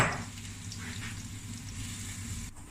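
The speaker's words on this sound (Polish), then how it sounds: "Cebulka się smaży" Onion fries in a pan with a steady, soft sizzle and crackle that stays at an even level throughout, with a low hum underneath and no talking.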